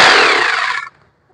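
A Powertex 26 rotary hammer in chipping mode chatters in a loud, rapid burst of percussive blows for just under a second, then stops abruptly into quiet.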